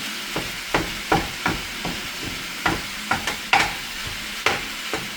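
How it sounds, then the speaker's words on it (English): Ground meat is stirred in a hot pan for spaghetti sauce, with a spatula scraping and tapping in a quick irregular rhythm over a soft, steady sizzle, heard up close. "you want to just keep stirring the meat until it gets brown"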